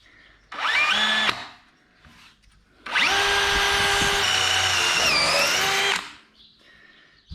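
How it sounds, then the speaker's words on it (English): A power drill whines in two bursts while drilling a pilot hole through two metal chassis pieces, a short burst followed by a longer steady run, with quiet pauses between and no talking. "I'll drill a pilot hole through both pieces"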